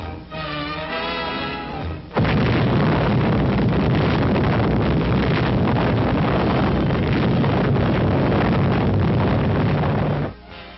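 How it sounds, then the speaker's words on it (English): An atomic bomb test blast from 1946 appears in archival film, a sudden loud, sustained rumbling roar of broadband noise that holds for several seconds before dropping away, with no voices. "let's view the blast as filmed by another camera"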